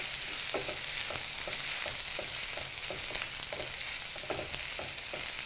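Cooked ivy gourd curry in a frying pan gets stirred with quick rhythmic scrapes over a steady sizzling hiss, close up and without voices.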